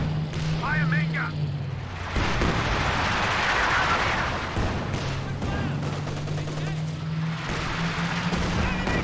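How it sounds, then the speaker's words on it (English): A tank's main gun fires in Company of Heroes 2, one heavy boom with a rolling tail amid continuous battle rumble, engine drone and scattered weapon fire. Unit voice lines come and go throughout. "Fire main gun."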